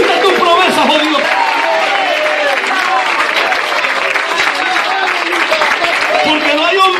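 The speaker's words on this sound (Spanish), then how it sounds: "Un aplauso fuerte al Señor" A large church congregation applauds steadily and loudly throughout, dense continuous clapping with voices calling out over it.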